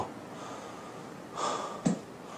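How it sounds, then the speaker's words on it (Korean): Heavy, breathy panting after strenuous golf swing training, with a loud exhale surge followed by a sharp snort-like gasp close to the mic, with no speech. "와, 숨이 헐떡차네"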